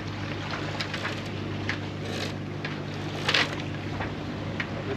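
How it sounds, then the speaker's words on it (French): A catamaran under sail with its engine running in light wind, heading toward Saint Lucia: a steady low motor drone beneath broadband wind and water rush, with brief louder splashes, no talk. "on a quand même un moteur parce qu'il n'y a pas des masses de vent"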